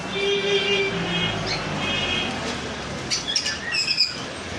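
Lutino Fischer's lovebirds chirp and whistle in thin, bright repeated notes, with a few sharper bursts and fluttery sounds near the end over a steady background hum.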